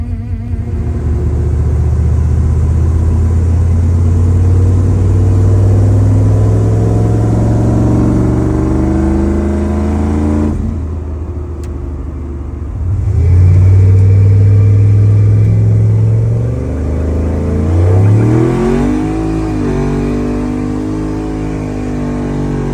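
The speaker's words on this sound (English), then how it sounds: "My power steering pump hates life, but it's moving molasses. Oil pressure's coming up." A pickup truck engine revs loud and close after a 0-degree cold start, rising and falling in steady swells while the power steering pump strains and groans underneath.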